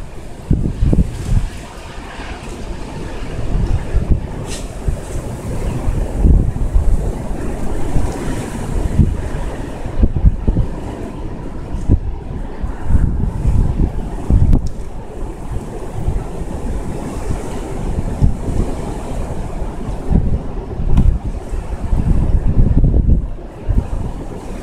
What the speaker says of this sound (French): Tout le bruit que vous entendez depuis tout à l'heure, c'est le rafale.